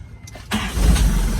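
A car with an electrical ignition-contact fault is started again: a brief starter crank, then the engine catches at about half a second and settles into a loud, close, rumbling run.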